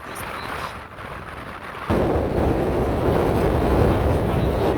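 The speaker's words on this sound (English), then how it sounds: "Oh, that was a big gust." A strong wind gust at Goat Rock State Beach slams into the microphone as a sudden, loud buffeting roar that jumps up partway through and stays heavy, over a lighter rushing background of surf and wind.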